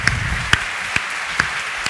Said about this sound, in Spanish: Un aplauso para esta escena.